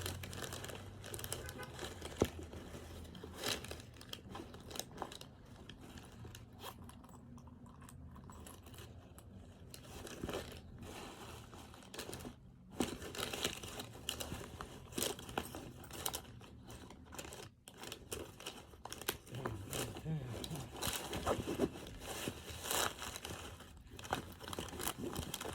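Hands rummaging through a bag, with soft crinkling, rustling and light jangling of items, close and quiet, continuous with brief pauses.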